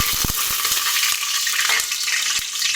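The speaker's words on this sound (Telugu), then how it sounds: "ఆయిల్ హీట్ అయిపోయిందండి, మనం పోపు దినుసులు వేసేసుకుందాము" Steady crackling sizzle of whole spices (cinnamon, cloves, cardamom) in hot oil, with a few sharp pops and clicks scattered through it, close up and continuous.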